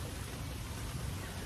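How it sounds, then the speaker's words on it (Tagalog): Rain falling at the San Rafael River Adventure Park, a steady, soft hiss of drops without pause, faint and continuous with no voices. "Umuulan yan, guys."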